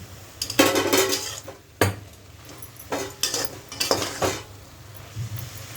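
A spatula stirring chavdi vegetable bhaji in a pan, heard as repeated metallic scrapes and clinks in uneven bursts over a faint sizzle, close and fairly loud, with no talk.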